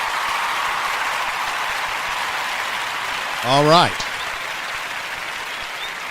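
A steady wash of clapping hisses evenly through a live online broadcast, and a voice briefly speaks over it partway through.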